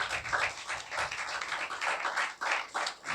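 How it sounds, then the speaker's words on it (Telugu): A church congregation claps together during a Christian sermon, a steady dense patter of many hands that swells and dips in waves, fairly close and filling the room without voices. "చప్పట్లు కొట్టండి"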